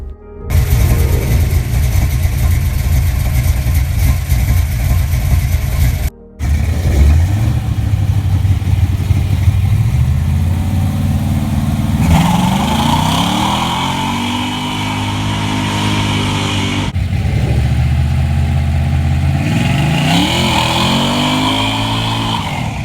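A 1970 Pontiac GTO engine idles with a loud, steady rumble, then revs several times, each rev climbing and falling back, with no talking over it.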